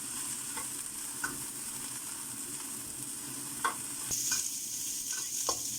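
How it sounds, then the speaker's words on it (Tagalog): Onions fry in a pan with a steady, quiet sizzle, punctuated by a few soft clinks and scrapes of stirring; no one speaks. "Gusto nila yung onion hindi hilaw. So, kailangan i-fry ng mabuti."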